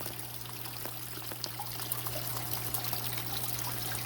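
Aquarium water held back by duckweed spills over the tank's edge in a fish room, a steady close trickle and dribble over a constant low hum.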